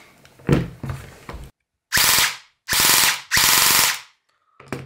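An electric airsoft gun fitted with an external 3S LiPo battery fires three loud, close full-auto bursts, each about half a second, with a buzzing whir and rapid mechanical rattle, between quieter clicks and handling noises.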